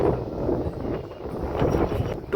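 Wind blows steadily outdoors in bright sun, a low buffeting rush across the microphone that swells and eases over a couple of seconds with no voices.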